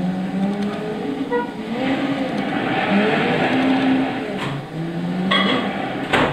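A revving turbocharged 2-litre Subaru boxer engine with shifting pitch runs steadily throughout, gear changes and skidding texture as the 2000 Subaru Impreza WRX Wagon STi power-slides on loose dirt in Gran Turismo 6, loud and close.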